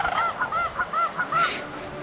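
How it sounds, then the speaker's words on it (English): Geese honk in a steady series of calls, one after another, at a moderate distance amid a flock of sandhill cranes in the wild, with no voices. "I'm just surrounded by sandhill cranes. They're all just calling everywhere around me."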